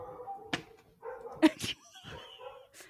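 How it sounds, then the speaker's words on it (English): Dogs bark and yip indoors, several sharp barks and whimpers scattered irregularly over a few seconds, close and moderately loud. "the dogs are out of control today"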